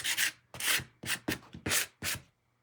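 Sandpaper rubbing along the edges of a wooden craft piece with painted inlays, six short scratchy strokes in a steady back-and-forth rhythm, close and fairly quiet.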